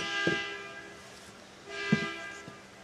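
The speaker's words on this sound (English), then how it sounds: "My neighbor over there honking his horn." A neighbor's vehicle horn sounds nearby outdoors, two moderately loud honks about a second and a half apart, each with steady tonal harmonics, over faint background noise with no talking.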